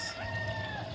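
Rooster crowing on a farm near a koi pond, one sustained crow lasting about a second, close and fairly loud against a steady background hiss.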